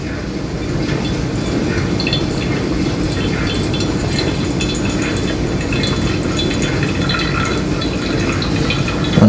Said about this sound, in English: Seems to be like this retention with the water on that first pour, where all that coffee just sticks together.